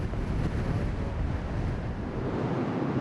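Strong gusting wind buffets the microphone on a cold, open golf course, a loud steady broadband roar with rumbling low end that never lets up across the whole stretch.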